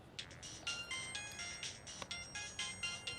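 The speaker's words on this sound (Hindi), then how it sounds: "किसका फोन है?" A mobile phone ringtone chimes in a quick repeating pattern of bright electronic tones, fairly quiet and alone.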